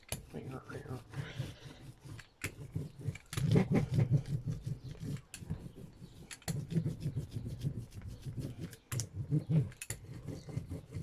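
Cardboard being worked over with a brayer while making a slow stitch book, giving quiet, irregular rubbing and rolling passes with brief pauses between strokes.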